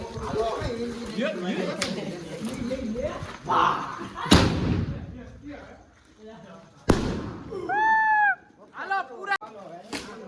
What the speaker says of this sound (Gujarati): મિત્રો ત્રીજો ફટાકડો